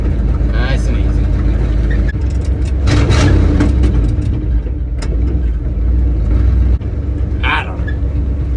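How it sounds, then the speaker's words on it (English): A 50-year-old farm truck's engine rumbles loudly and steadily while driving, a low, heavy drone that runs throughout, with people talking over it. "50 years old and it was a farm truck"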